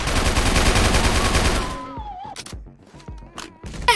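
Shotgun fire in a Roblox game, a dense burst of loud rapid gunfire for about two seconds, then several separate sharp shots with gaps between them.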